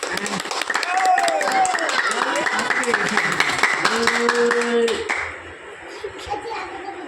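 At a student sports match, a crowd claps in a dense patter of many hands, mixed with children's voices and shouting, with a commentator talking over the noise.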